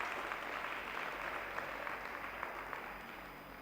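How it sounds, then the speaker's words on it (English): An audience at a seminar session claps for itself, producing a continuous crowd patter of many hands that fades slightly toward the close. "please give yourselves a resounding round of applause"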